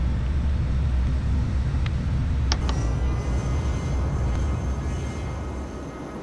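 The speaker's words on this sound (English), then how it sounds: "Yeah, this plane is very, very loud." A North American FJ-3 jet in Flight Simulator X roars steadily through its takeoff run, a loud, constant engine rumble and whine. Two brief higher clicks rise above it partway through.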